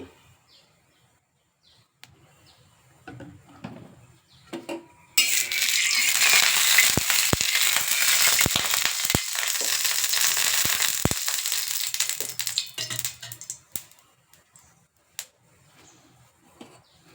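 Oil poured into a heated pan for French toast bursts into a loud crackling sizzle that holds for about seven seconds with sharp pops, then dies away to quiet kitchen sounds.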